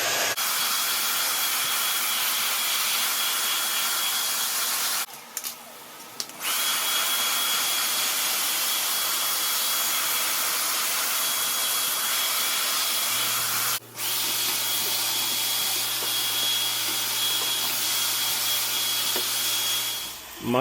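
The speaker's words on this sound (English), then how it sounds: "So we're going to vacuum this out." A vacuum cleaner cleans out a clogged bathroom exhaust fan with its cover removed. It gives a loud, steady, continuous roar close by, with a few brief dips in the noise and no talking.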